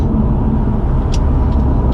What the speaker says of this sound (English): I love the morning traffic